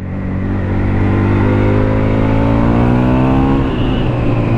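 A Husqvarna Nuda 900R twin-cylinder motorcycle, rated at 106 horsepower, accelerates hard, its loud close engine note climbing steadily in pitch through a sustained rev with no talk over it.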